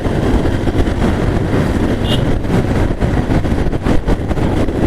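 A motorbike riding along Mawa road in hot sun, giving a steady close rush of wind buffeting the microphone over a low, continuous engine drone, with no one speaking.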